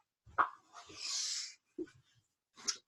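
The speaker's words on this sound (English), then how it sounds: "Here comes my little doggy do." A small dog whimpers in a few short, soft whines with quiet gaps between them, close by in a quiet room.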